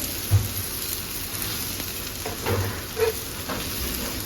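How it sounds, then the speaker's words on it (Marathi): Stuffed okra fries on a griddle with a soft, continuous sizzle close by, punctuated by a few light knocks as the pieces are turned over. "ज्या बाजूनी राहिली त्या बाजूनी आपल्याला परतून घ्यायची आहे."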